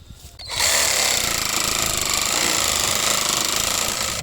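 A LEADER cordless reciprocating saw fitted with a metal blade cuts through a thin metal pipe, a loud, continuous rasping buzz that starts abruptly after a brief quiet moment and holds steady to the end.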